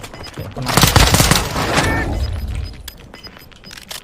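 Rapid bursts of gunfire in the video game Warzone 2 crackle loudly in a dense cluster, then trail off into scattered faint shots and background noise.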